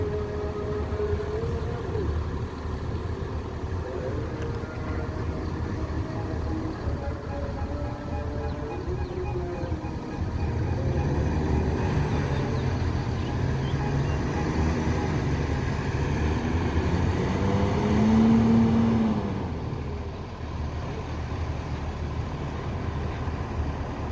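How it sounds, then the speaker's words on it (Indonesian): A Gemarang intercity coach bound from West Sumatra to Jakarta departs with a steady diesel engine rumble that swells and shifts pitch as it moves off, alongside continuous traffic noise. "Dan ini bus Gemarang yang kedua, berangkat dari Sumbar menuju Jakarta"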